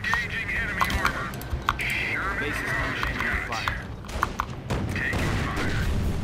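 Bursts of rifle and machine-gun fire crackle in a World War II battle in Company of Heroes, with rapid volleys and distant booms layered under radio-style unit chatter.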